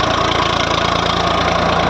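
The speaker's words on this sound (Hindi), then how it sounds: "अब ट्रैक्टर को लेकर चल दिए।" A tractor engine runs steadily as it pulls away, a loud, continuous mid-to-low chugging drone with an even pulsing throb and no voices.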